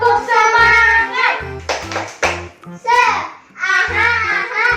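Children chant and clap through a rhythmic spirit clap, with short bursts of hand claps punctuating the singsong voices in a bouncy, close, loud pattern.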